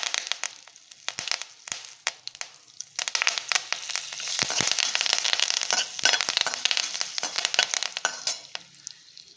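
Curry leaves crackle and sizzle in hot oil while tempering, with irregular pops and spitting bursts over a steady frying hiss, close and moderately loud.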